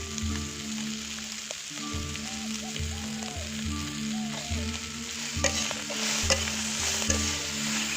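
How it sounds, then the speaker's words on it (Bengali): Onions, prawns and green chillies sizzle and spatter in a hot pan while a utensil stirs them in repeated scraping strokes, close and steady, with no talking. "পেঁয়াজ আর চিংড়ি মাছটা একটু ভাজা ভাজা হবে।"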